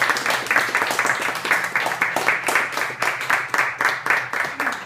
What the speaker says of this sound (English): And also a big round of applause for Rob